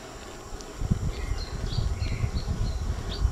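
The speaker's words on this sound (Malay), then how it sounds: "bunyi cengkerik." Crickets chirp faintly and intermittently in a forest during a long road bike ride, their thin high calls sitting above a steady low rumble of wind and movement.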